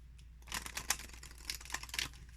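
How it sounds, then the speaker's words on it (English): A Moonsprites Oracle card deck is shuffled close up, giving a quick run of crisp papery riffles and flicks in several bursts over a faint steady hum, with no talking. "let's shuffle to see how it feels like"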